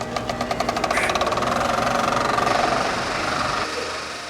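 A film projector starts up and runs, its rapid rhythmic clatter and motor whir close and loud, holding steady and then easing slightly near the end.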